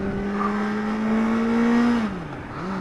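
A Suzuki motorcycle engine runs while being ridden. Its loud, steady tonal hum climbs slowly in pitch, then drops sharply near the end before settling again, with no speech.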